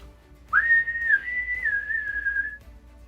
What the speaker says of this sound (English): Can you guys whistle?